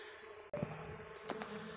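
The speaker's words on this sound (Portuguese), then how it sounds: "vou fechar e devolver porque já tem manda-saia me rondando aqui já" Mandaçaia stingless bees fly around an open hive box: a faint, thin buzzing hum with a few brief, closer passes after a sudden handling thump, and no talk.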